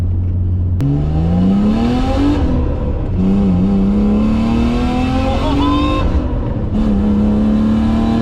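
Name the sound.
turbocharged car engine accelerating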